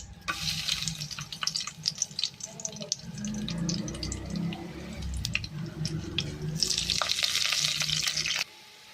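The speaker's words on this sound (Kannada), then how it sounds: "ತುಲೆ ಬೆಳ್ಳುಳ್ಳಿ ಪಾಡೊಂದುಲ್ಲೆ" Garlic frying in a pan on a home stove gives a steady close sizzle, broken by clinks and scrapes of stirring, and the hiss swells louder near the end before cutting off.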